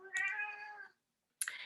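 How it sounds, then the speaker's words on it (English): A pet cat lets out one clear, drawn-out meow close by, followed after a short silence by the start of a second call, with no talk. "Sorry, that's my cat."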